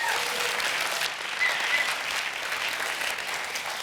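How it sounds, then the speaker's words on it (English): An audience applauds at an award ceremony, a sustained burst of clapping from many hands that holds steady throughout, with no one speaking over it. "And an applause to the jury."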